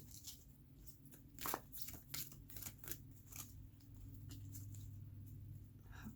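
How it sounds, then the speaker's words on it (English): Quiet, irregular papery riffling and soft flicks of tarot cards being shuffled by hand, close by, with a low steady hum underneath. "These cards are so crazy to shuffle, seriously."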